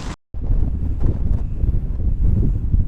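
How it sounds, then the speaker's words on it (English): Strong wind roars into an Insta360 Ace Pro 2 action camera's microphone outdoors in a weather warning, a loud, steady low buffeting that cuts out briefly at the start and then keeps blasting. "So this is the Insta360 Ace Pro 2 wind noise test."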